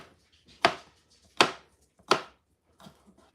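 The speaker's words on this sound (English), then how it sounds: "Alright, so I got all my pickles chopped" A knife chops dill pickles on a cutting board in three sharp, loud strikes about 0.7 seconds apart, followed by a softer fourth knock, with quiet gaps between and no talking.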